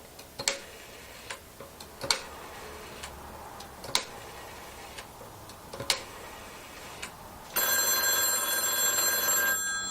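An Automatic Electric three-slot coin telephone's rotary dial clicks through a ten-digit number, crisp close ticks in bursts separated by pauses, followed by a steady loud ringback tone near the end.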